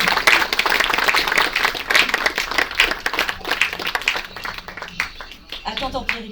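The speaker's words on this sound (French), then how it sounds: "Les applaudissements." Applause at a round-table conference on equality and disability, a burst of clapping with voices talking over it, fading toward the end as speech takes over.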